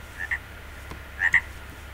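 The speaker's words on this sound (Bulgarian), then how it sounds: "Жаба!" Frogs croak in the Minecraft mod pack Hexxit, two pairs of short nasal croaks a second apart over a faint low game ambience.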